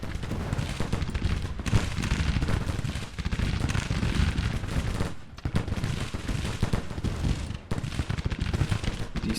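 Artillery bombardment in the Grand Tactician Civil War game roars as dense, continuous volleys of cannon and gunfire, loud and unbroken with a few short lulls.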